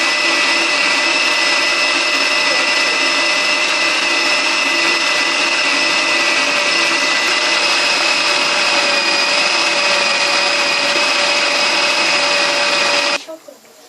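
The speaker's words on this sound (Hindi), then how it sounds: "सारी चीज़ें मैंने चॉपर में डाल दी हैं। अब हम इसे अच्छी तरह मिक्स करेंगे।" An electric chopper blends chicken kebab ingredients with a loud, continuous whirring motor drone held steady for about thirteen seconds before it cuts off abruptly at the end.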